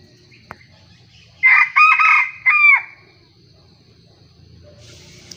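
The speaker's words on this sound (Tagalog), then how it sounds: "Yun ang unang tilaok ni Dapa dito sa gubat" A rooster crows once in the distance in a forest, a loud drawn-out call in several rising and falling segments, set against a quiet outdoor background.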